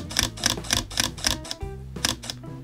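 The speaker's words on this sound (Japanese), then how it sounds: "シャッターを切ります。" Panasonic Lumix G3 mirrorless camera, set to standard JPEG quality, firing its shutter in burst mode: six fast, evenly spaced clicks, a short gap, then two slower shots, close and crisp.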